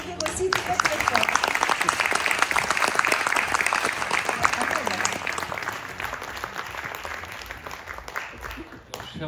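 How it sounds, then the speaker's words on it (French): An audience in Paris bursts into loud, sustained applause after an invitation to clap for the organiser of a cultural show, steady dense clapping that fades toward the end. "Oui, vous pouvez l'applaudir aussi très très fort."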